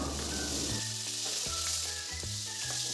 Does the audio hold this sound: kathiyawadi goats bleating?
no